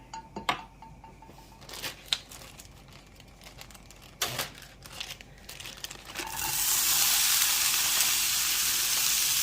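Tofu hits a hot pan and sets off a loud, steady sizzle that holds to the end, after a few quiet clicks and clatters of handling. Nobody speaks.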